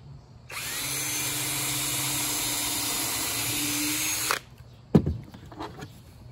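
A battery power drill drives a 3-inch screw into wood for a porch swing frame, whining steadily and loudly for about four seconds before cutting off, followed by a sharp knock and a few light handling clatters.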